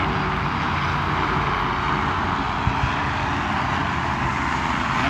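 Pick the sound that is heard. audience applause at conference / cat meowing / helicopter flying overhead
helicopter flying overhead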